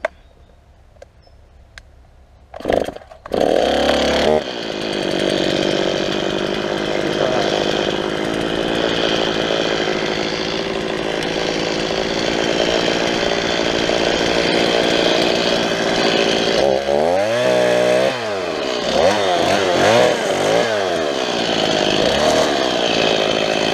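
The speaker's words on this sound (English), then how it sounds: "I'll just start a chainsaw." A chainsaw being started for tree cutting: a couple of sharp pull-cord tugs, then the engine catches and runs loud and steady close by, with revving swells near the end.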